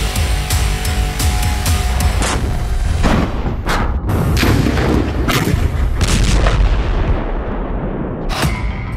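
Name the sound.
bombs and artillery fire on Gaza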